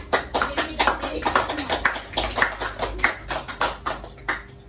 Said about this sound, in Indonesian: berikan aplaus dulu kepada